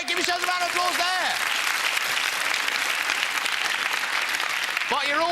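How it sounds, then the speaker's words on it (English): Studio audience at the 1997 quiz show Whittle applauding steadily and loudly throughout, with a tonal game-show jingle over the start and returning briefly at the end. "Give yourselves a round of applause there."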